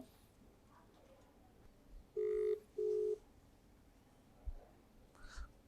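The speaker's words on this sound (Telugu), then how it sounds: "ఫోన్ రింగ్ అయింది కానీ కాల్ని రిజెక్ట్ చేశారు" A phone ringback tone sounds twice in quick succession, two short steady beeps over a quiet background with faint clicks afterward.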